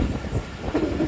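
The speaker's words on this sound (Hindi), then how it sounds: "ट्रेन हमारी 10:50 पर गोरखी रेलवे स्टेशन पर पहुंच रही है" A train pulling into Gorakhi railway station at night, heard as a continuous low rumbling rail noise with faint wheel clatter, steady and fairly close.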